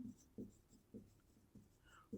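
Pen writing on paper during a math lesson, with quiet scratchy strokes in a steady rhythm of about four short bursts, close and soft with no talking.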